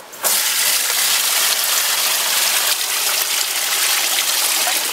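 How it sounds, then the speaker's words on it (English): Raw clay slurry pours into a sieve set over a bucket, a loud, steady, close rushing gush that starts abruptly and continues without a break, with no talking. "It places nicely on your bucket, and then just pour this mixture into it."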